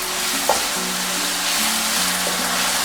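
Dirty rice frying in a pan over medium-high heat with Worcestershire sauce just added, sizzling steadily while a spoon scrapes and stirs through it in a few distinct strokes, close and fairly loud with no talking.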